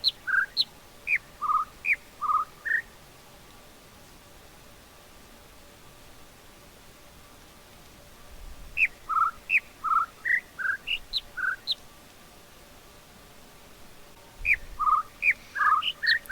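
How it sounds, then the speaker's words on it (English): Jungle birds in The Witness puzzle singing short phrases of about six chirps stepping between high, low and middle pitches, repeated three times with pauses between, clear against a soft hiss. "one of the birds is going high, low, mid, which doesn't work out on the panel"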